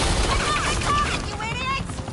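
Police open fire in Batman: The Enemy Within, a continuous loud barrage of gunshots with whizzing ricochet-like tones, close and dense throughout, with voices mixed into the chaos.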